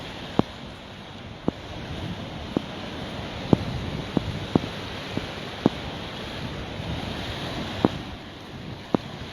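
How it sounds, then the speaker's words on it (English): Ocean waves and wind on the wild, open side of a seashore make a continuous broad wash of surf and wind noise. Faint scattered clicks sound throughout and no one speaks. "Let's walk over to the wild side, to the full-on ocean side, feeling the whales as well in the water."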